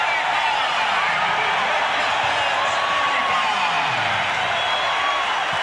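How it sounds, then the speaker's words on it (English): An arena crowd roars steadily in Orlando during a Detroit Pistons vs Orlando Magic basketball game, a constant broad wash of noise filling the whole stretch. "and listen to the crowd."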